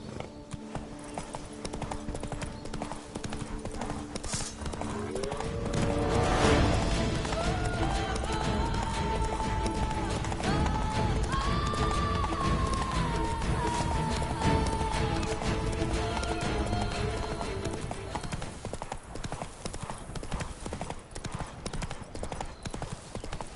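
Horse galloping in The Witcher 3 on PS5, a steady rapid clip-clop of hooves throughout, joined by a whinny and a swelling music score.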